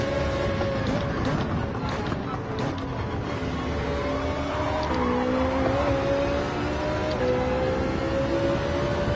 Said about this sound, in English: That screaming Mazda. Love that sound.